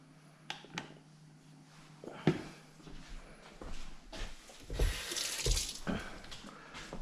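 A kitchen tap runs as something is rinsed off while coleslaw dressing is made, with the water splashing and gurgling close by and bumps and clatters in the sink over several seconds.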